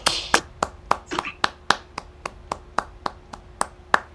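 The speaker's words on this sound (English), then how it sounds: "let's all give Bill an enormous applause" Single person clapping on a video call for Bill, about fifteen evenly spaced, crisp handclaps close to the microphone, with a faint voice briefly at the start.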